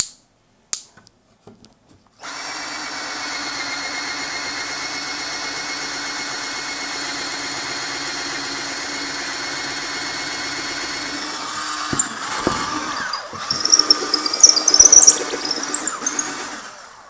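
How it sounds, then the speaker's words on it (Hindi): A Total 18V cordless drill boring holes with larger bits, running steadily with a constant whine for about ten seconds after a few clicks, then grinding and squealing unevenly as the bit bites into the workpiece, close and without talk. "ज़रा भी ये रुकी नहीं है ड्रिल, काफ़ी पावर है इसके अंदर"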